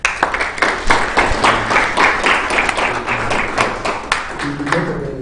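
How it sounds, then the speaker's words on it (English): A round of applause at an entrepreneurship segment of a Ghana job fair: loud, close, distinct hand claps in a quick uneven rhythm, thinning out near the end with a low rumble underneath. "let's give them a round of applause"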